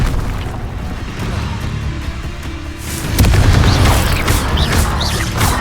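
A Bombarda spell in Hogwarts Legacy detonates in a heavy, loud boom that swells into rumbling blasts and crackling debris, following a stretch of lighter combat noise.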